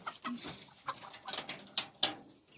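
Chickens and a rooster cluck and call in short, irregular bursts from close range, with several sharper squawks toward the end and no talking.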